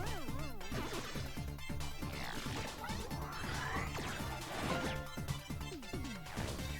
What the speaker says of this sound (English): your main combat move in this is like to jump on enemies just like that